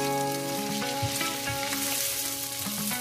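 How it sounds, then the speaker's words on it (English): Shrimp sautéing in butter in a pan, a steady close sizzle with crackles and pops spattering throughout, and no talking over it. "Shrimp and butter, sauteed shrimp and butter."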